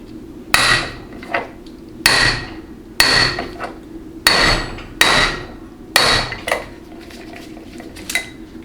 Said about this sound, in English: all you're going to do is hit as hard as you can while twisting counterclockwise